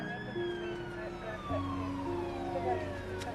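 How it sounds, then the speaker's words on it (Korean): Police sirens wail from a distance near a forest, several overlapping rising and falling tones sweeping steadily at moderate volume, with a low engine drone underneath. "멀리서 경찰의 사이렌 소리가 들려옵니다"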